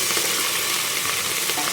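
Chopped onions and green chillies fry in a pan for pappu charu, a steady, dense sizzle with soft crackles, close and continuous.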